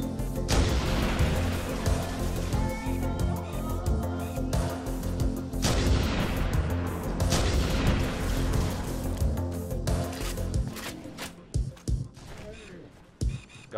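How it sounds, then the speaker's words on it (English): Grenade explosions and gunfire in a first-person shooter video game, a dense, loud barrage of booming blasts and rapid shots over about fourteen seconds, easing into scattered bursts toward the end. "Pelted us with grenades."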